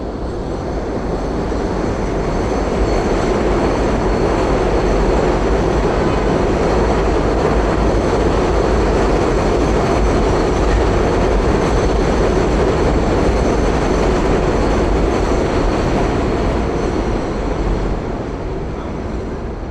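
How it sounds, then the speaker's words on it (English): A loud elevated train rumbles past close by on Brighton Beach Avenue, Brooklyn, a continuous heavy roar with rattling wheels that holds steady throughout, with no voices. "you're going to always hear trains coming along like this one"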